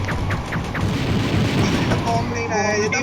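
Booming bomb explosions in a tournament video game, with rapid rolling blasts and gunfire-like cracks crowding together, loud and close over game noise and players talking.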